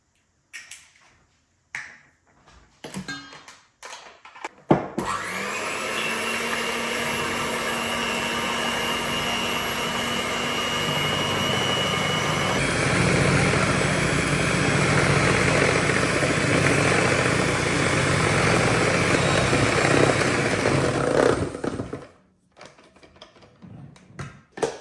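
An electric hand mixer whirs loudly and steadily for about seventeen seconds while Yorkshire pudding batter is beaten, its pitch shifting slightly midway, with scattered clatters of utensils before and after.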